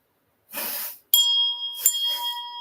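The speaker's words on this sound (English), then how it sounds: "And don't forget to ring this beautiful bell." A notification bell sound effect follows a brief whoosh, a bright ding that rings on with a sustained tone, then a second shimmer and fading ring, loud and isolated.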